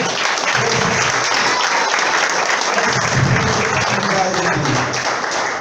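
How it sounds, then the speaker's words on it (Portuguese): A church congregation applauding during a service, a dense, sustained burst of clapping from many hands that fills the whole stretch, with voices calling out beneath it. "Vamos aplaudir o Senhor."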